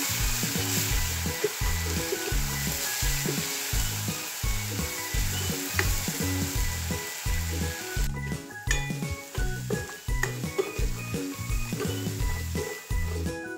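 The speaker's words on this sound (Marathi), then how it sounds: "आता त्याच्यामध्ये मगाशी जो आपण बारीक करून घेतलेला मसाला आहे तो तेलावरती छान असा परतून" Ground masala paste frying in oil in a pan for dhaba-style whole masoor, with a loud continuous sizzle broken by rhythmic scraping strokes of stirring, close up and without talking.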